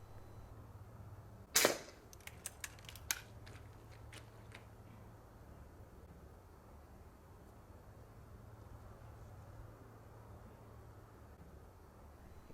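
A single sharp rifle shot rings out while ratting in a farmyard, followed by a few fainter cracks and knocks, over a steady low background hum.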